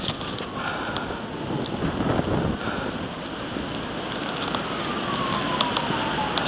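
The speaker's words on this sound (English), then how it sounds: "It's like the snow is hitting the trees pretty fast and hard, and it sounds like sleet, but it's actually the wind and snow getting pushed." Strong blizzard wind gusts driving snow hard against trees, a steady dense roaring hiss with a close, continuous rush throughout and no talk.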